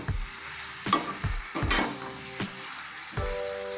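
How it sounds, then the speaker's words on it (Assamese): Mushrooms with turmeric powder fry in a pan, a steady close sizzle broken by several sharp scrapes and knocks of a spatula stirring them, with no talking. "ইয়াক অকণমান ধুনীয়াকৈ ফ্ৰাই কৰিব"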